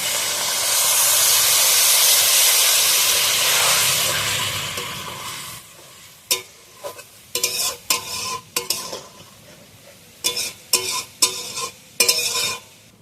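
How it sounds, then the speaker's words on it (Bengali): Water poured into a pan of sizzling mourala fish curry gives a loud, steady rush of sizzle and steam for about five seconds, then falls to quieter bursts of stirring and bubbling in the pan. "এবার আমি জল দিয়ে দেবো, অল্প করে জল দেবো।"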